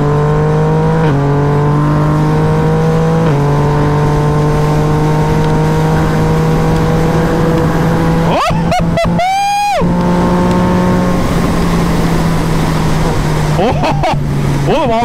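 A Yamaha MT-09 motorcycle engine hums steadily while riding, its pitch shifting through gear changes with a sharp rising rev burst midway, loud and close under wind noise.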